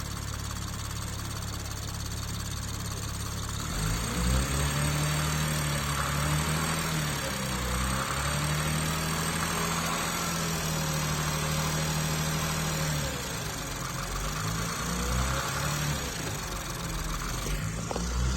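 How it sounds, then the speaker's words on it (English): Built 1000 WHP engine in a BMW M240i idling smoothly, a steady low hum with slight rises and dips in pitch, close and even, over a faint background hiss. "Sounds exactly like the stock motor. I can't believe it. It sounds so smooth."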